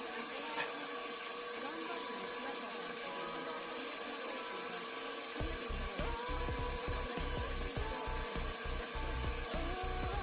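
A stand mixer whips a macaron sugar mixture on high speed with a low, steady whir. Partway through, a rhythmic low thumping joins in as the beaters churn.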